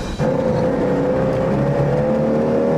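An Italian car accelerates at full throttle, its engine note climbing in a loud, continuous rising drone heard from inside the cabin with no talk over it.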